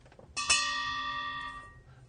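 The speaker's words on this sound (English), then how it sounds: "you'd grab that rope and ring that bell as hard as you could and as vigorously as you could" A single trench gas alarm bell, rung by pulling a rope, gives one loud clang that rings on with a long, even metallic tone before fading, with nothing else over it.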